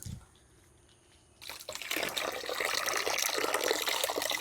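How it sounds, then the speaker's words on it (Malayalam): Squeezed moringa leaf extract is poured from a height into water, starting after a quiet moment and building into a steady, close splashing stream. "ഇനി നമ്മൾ ഒഴിക്കേണ്ടത് മുരിങ്ങയില ഞെരടിപ്പിഴിഞ്ഞ അതിൻ്റെ ആ ചണ്ട് എടുത്ത് കളഞ്ഞിട്ട് നേരെ ഇത് ഒഴിക്കാം"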